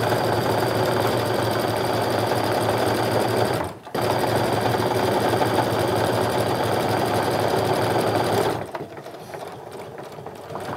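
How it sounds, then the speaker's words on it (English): A sewing machine stitching a tote bag seam through cork runs at a steady fast rattle for about eight seconds with one momentary pause, then stops to a quieter hum. "Then I'm gonna sew along until my needle is down in the first part of that seam allowance where the cork is."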